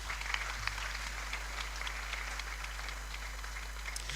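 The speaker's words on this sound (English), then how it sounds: "with a huge round of applause, help me welcome Mr. Austin Game." Steady applause from a conference crowd, a dense wash of clapping hands that holds at an even level throughout, with no voices standing out.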